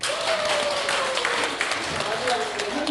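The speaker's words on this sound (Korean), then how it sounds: "다시 한번 우리 공부하신 이성분께 박수 보내주세요" An audience claps at a talk-concert event, a loud steady patter of many hands mixed with scattered voices and a whistle-like tone weaving through.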